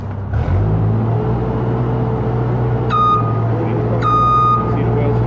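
A construction machine at a real estate development site runs with a steady low engine drone while lifting its mechanism, and two separate bursts of high reversing beeps sound over it. People talk nearby.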